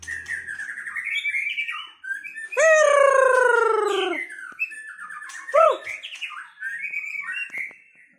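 Adult songbird kept as a trained singing bird, delivering a loud, close series of bright descending whistled notes and chirps in bursts, with shorter calls before and after.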